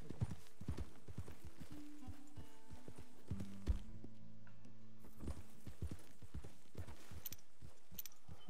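Horse hooves clip-clopping in Red Dead Redemption 2, a run of close, uneven hoof strikes on hard ground, with quieter ambient game sounds between them.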